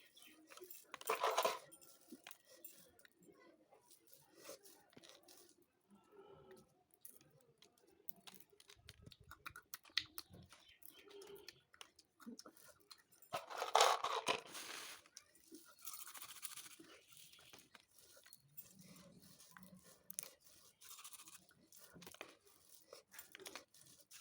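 Roasted chickpeas being husked by hand make quiet, scattered crackling and rustling as the dry skins rub off, with a few louder crinkly bursts near the start and around the middle.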